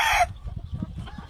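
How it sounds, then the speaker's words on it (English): Yellow leg gamefowl on a farm in Hawaii: a short bright crow or squawk at the start, then soft low clucking and rustling close by. "Cody Boone, yellow league hen, gifted to me for my friend"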